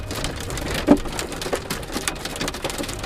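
Steady rain falls in the countryside near Nice, a dense, even patter with a few heavier drops knocking nearby, no voices.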